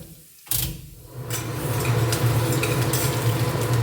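Urad dal fries in hot oil for a millet breakfast dish, starting with a clatter of utensils before a steady, growing sizzle settles in close by.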